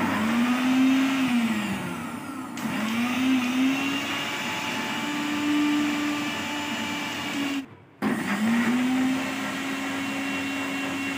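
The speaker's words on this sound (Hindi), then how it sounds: "हम इसे मिक्सी में कुछ सेकंड्स के लिए ब्लेंड कर लेंगे" A kitchen mixer blending watermelon juice whirs loudly and steadily, its motor pitch rising and falling in a few pulses with a brief cutoff near the end before restarting.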